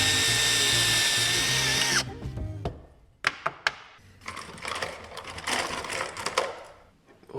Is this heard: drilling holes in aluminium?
yes